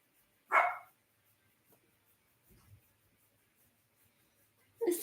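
A dog barks once, sharp and close, early on at someone outside the house, then a second burst of barking starts at the very end after near silence.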